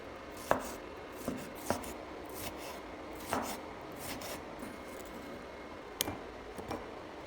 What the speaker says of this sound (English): and then cut it into pieces